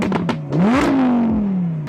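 A car pulls hard in second gear, its engine note climbing sharply, then holding as a loud, close, continuous roar that slowly eases off.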